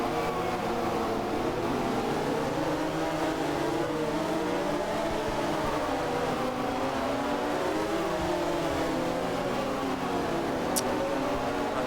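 Motorcycles in the MotoGP 2013 video game accelerate off the race start, engines whining and rising in overlapping waves of pitch, a steady, dense mechanical drone with no voices.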